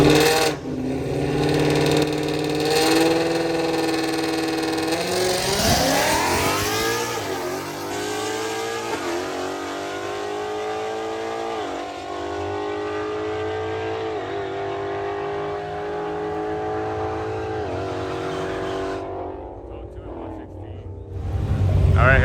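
At a drag strip, a late-model Ford Mustang and a late-model Chevrolet Camaro rev loudly and accelerate, their engine notes climbing and shifting in long pulls before cutting off near the end.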